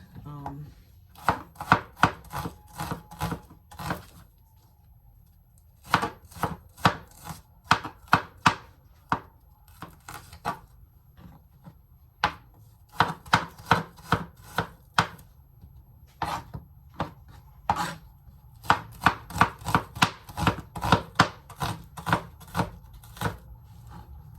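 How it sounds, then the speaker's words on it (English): A couple of onions chopped on a board, fast rhythmic knife strikes in bursts separated by short pauses, crisp and close throughout. "Now I'm gonna go chop a couple of onions. We're just gonna chop these."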